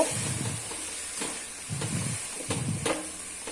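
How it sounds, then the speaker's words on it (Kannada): Washed, cut cluster beans (chavalikai) frying in a pan for a North Karnataka palya, a soft continuous hiss with faint stirring bursts. "ಚೌಳಿಕಾಯಿನ ಕಟ್ ಮಾಡಿರುವಂಥ ಒಂದು ಸತಿ ವಾಶ್ ಮಾಡಿಬಿಟ್ಟು ಹಾಕ್ತಾಯಿದ್ದೀನಿ ಇದು ನನಗೆ ಫ್ರೈ ಮಾಡಬೇಕು"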